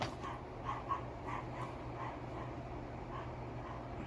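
A dog whimpers in a repeated string of soft whines and small yips, fairly faint and distant indoors under a low steady hum.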